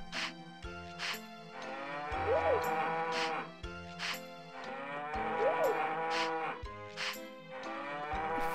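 Cows mooing in a farming video game, long drawn-out calls repeating over a bright, rhythmic musical background.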